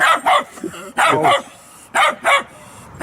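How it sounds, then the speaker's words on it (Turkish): A small, aggressive dog barks at a rural house, sharp close barks coming in pairs, about four in all, with brief quiet gaps between. "Burada bir de küçük bir köpek var. Çok hırçınmış bu da."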